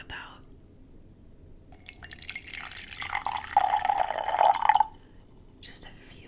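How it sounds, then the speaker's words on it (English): Water pours into a container in a quiet room, a gentle rising trickle and splash building for a few seconds and then stopping, close and soft. "And then I pour the water in"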